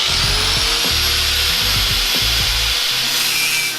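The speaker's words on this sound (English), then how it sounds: "drill out a few of these spot welds up at the very top" A drill boring out spot welds in the steel body of a 1969 Mustang, loud and steady with a high whine and repeated pulsing bites as the bit cuts through metal.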